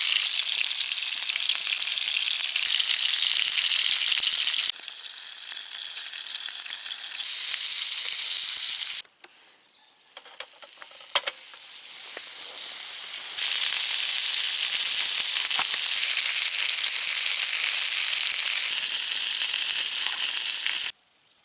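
Beef fillet steak sizzles loudly in a pan, a dense steady hiss that dips and swells, with a quieter stretch in the middle before the full sizzle returns. No one speaks.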